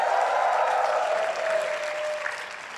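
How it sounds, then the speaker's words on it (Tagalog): A congregation at a Tagalog preaching service on divine healing applauds together, a steady, fairly close crowd clapping that slowly eases off toward the end. "Pumalakpak at sumigaw ng malakas yung tao rito."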